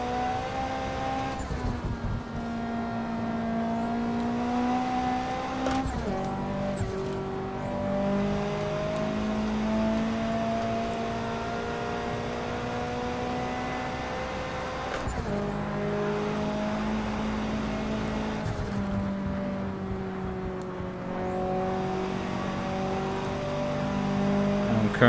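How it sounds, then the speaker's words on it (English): A tuned Toyota MR2 producing about 500 horsepower, raced in a driving video game, its engine droning and revving steadily through repeated gear changes, with occasional tire noise, loud and close throughout. "currently driving a Toyota MR2. Bit tuned up."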